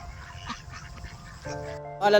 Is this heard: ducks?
yes